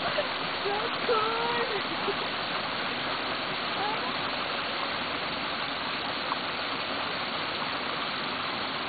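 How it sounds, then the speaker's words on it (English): A steady, dense rush of falling water roars continuously from nearby, with faint voices barely audible beneath it. "The waterfall starts from there."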